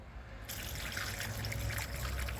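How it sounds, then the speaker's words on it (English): Diesel fuel poured from a container into an engine during an oil-system flush, a continuous close trickling and splashing of thin liquid that starts abruptly and holds steady with no talking. "Let me get my 2 gallons of diesel poured in there"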